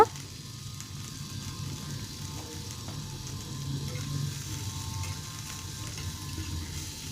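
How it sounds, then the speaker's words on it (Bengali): Food fries in a pan with salt and turmeric, a soft, steady sizzle that stays even and fairly faint throughout, with no one speaking. "একটু লবণ দিয়েছি, সামান্য হলুদ দেব। এটাকে খুব ভালো করে আমি ভেজে নেব।"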